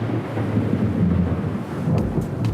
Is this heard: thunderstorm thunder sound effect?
yes